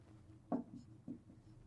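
Pen or pencil scratching out numbers on paper while working a rational numbers math exercise, two soft short strokes close by and faint.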